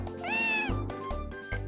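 Cats meow at a cat festival in the farming video game Harvest Moon: Grand Bazaar, one long drawn-out meow followed by several shorter quick meows, clear and close.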